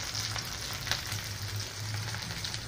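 Onion, cabbage and capsicum frying in a pan for chicken triple Schezwan rice, giving a continuous, even sizzle with a faint low hum underneath and no voices.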